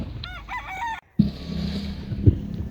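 A chicken crows nearby, a short harmonic call followed by a brief gap and then low muffled clucking and background rustle.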